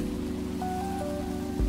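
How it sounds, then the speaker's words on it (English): Steady rain patters continuously against a surface in the video game SCHiM, a dense even hiss under a faint electronic hum. "And it's raining."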